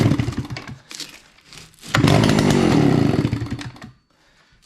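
A free Stihl chainsaw is started cold: uneven sputters and pulls, then the engine catches and roars loudly for a couple of seconds before dropping to near silence.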